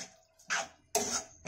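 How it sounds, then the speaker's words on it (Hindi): Water poured from a bowl into a pan of simmering gravy for a wheat flour (atta) curry with fried dumplings, heard as two short splashing gushes with a quieter bubbling gap between them. "एक कटोरी में पानी डाल रही हूँ इसमें"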